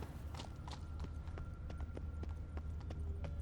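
A donkey's hooves clip-clop in a steady rhythm on the ground in The Witcher 3, quiet and moderately close over a soft game ambience.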